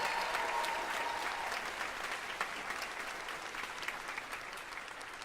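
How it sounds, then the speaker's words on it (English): A crowd at a commencement ceremony gives steady, sustained applause for the speakers, dense clapping that slowly fades a little toward the end. "Let's give them another round of applause for their incredible"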